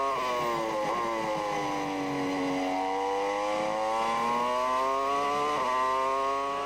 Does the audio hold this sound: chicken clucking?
no